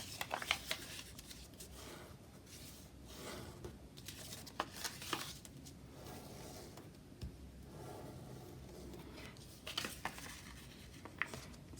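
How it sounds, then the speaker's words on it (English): Sheet of origami paper folded and creased back and forth by hand, giving repeated soft crinkling and crisp rustles, quiet and close, in an otherwise wordless stretch. "the more you go back and forth, the weaker the edge will become where you are folding and creasing"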